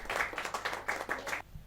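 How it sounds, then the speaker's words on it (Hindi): At a Hindi poets' gathering, an audience claps to welcome the new honorary director in half a dozen quick, regular bursts before stopping abruptly. "जोरदार तालियों के साथ हमारे नई मानद निदेशक जी का।"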